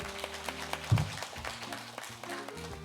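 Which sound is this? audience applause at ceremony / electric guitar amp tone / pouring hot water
audience applause at ceremony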